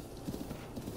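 Horse hooves clip-clop in a steady trotting rhythm in Zelda Breath of the Wild, fairly close and moderately loud, with a brief whinny-like sound mixed in.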